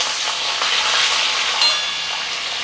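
Green chillies, ginger and cashews frying for idli upma, a loud, dense, close sizzle with faint stirring scrapes running steadily throughout.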